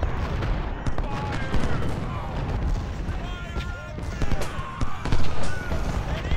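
Cannon and musket fire in the Civil War strategy game Ultimate General: Civil War during the Battle of Chancellorsville, with repeated booms and crackling volleys that swell toward the end, under someone talking.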